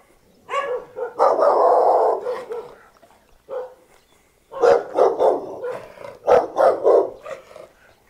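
Several little dogs in Hangdong Market, Chiang Mai, Thailand, bark in close, sharp yapping bursts, with one cluster early on and another flurry after a short lull.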